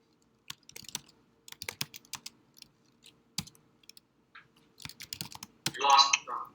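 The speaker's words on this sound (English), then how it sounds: "Now I can type." Computer keyboard typed in scattered short bursts of clicks, close and fairly quiet, with a denser clatter of keystrokes near the end.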